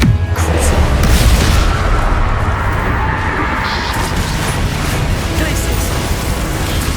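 A Depulso force spell cast in the Hogwarts Legacy video game, heard amid a dense, loud barrage of booming, crashing combat impacts that roll on continuously with no pause.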